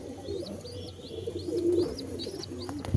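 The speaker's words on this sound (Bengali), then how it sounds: "দু একটা পায়রা ডিমে বসে আছে, এরা খুব শিগগিরই ডিম ফুটে যাবে।" Pigeons in a home loft where a few birds sit on eggs, coo in repeated low throaty phrases close by, with faint higher chirps scattered over the top.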